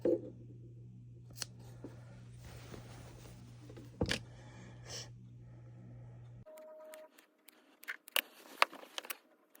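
Scissors make a few small snips through fabric near sewn stitches on a Simplicity 5628 garment, sharp clicks scattered over a steady low hum, with a brief burst of closer snipping near the end.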